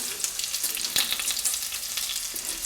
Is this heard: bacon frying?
yes